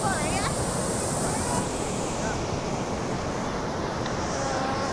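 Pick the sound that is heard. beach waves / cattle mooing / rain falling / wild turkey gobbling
beach waves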